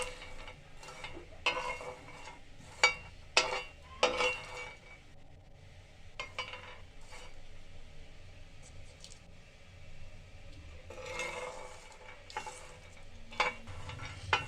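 Peanuts dry-roasting on a tawa over low heat, stirred so the nuts scrape and clink against the metal in irregular bursts, with quieter stretches between them.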